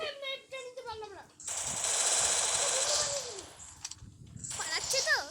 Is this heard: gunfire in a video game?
yes